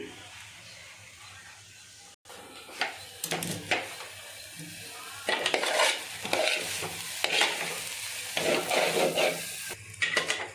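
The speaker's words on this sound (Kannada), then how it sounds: "ನೋಡಿ ಫ್ರೆಂಡ್ಸ್, ಈಗ ಚೆನ್ನಾಗಿ ಹುರಿದಿದ್ದೀನಿ" Paneer fried rice stirred in a pan, a spatula scraping and tossing the rice in steady bursts with a soft sizzle underneath, close and fairly loud after a quiet opening.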